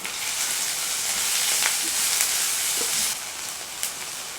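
Ginger garlic paste with turmeric, red chilli powder and garam masala frying in hot oil for a brinjal curry, a steady close sizzle with faint stirring scrapes and a slight drop near the end.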